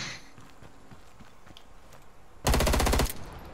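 Rapid automatic gunfire in an online first-person shooter game, a loud close burst of fast rounds lasting about half a second after quieter game ambience.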